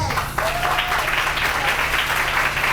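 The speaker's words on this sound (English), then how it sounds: "you all owe yourselves a round of applause" Steady applause from a crowd at a groundbreaking ceremony fills the whole stretch, dense clapping at an even level with a brief whistle-like tone early on.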